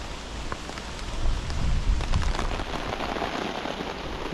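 Steady rain patters on a tent's fabric, a dense, continuous hiss of drops that swells slightly in the middle, heard up close without any voices.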